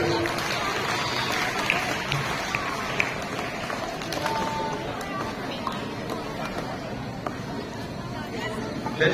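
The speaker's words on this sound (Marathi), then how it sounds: "परत एकदा जोरदार टाळ्या त्यांच्यासाठी." A Marathi cultural gathering's audience claps for a guest who recited Marathi poetry, dense broadband crowd noise holding steady from start to end with crowd chatter mixed in.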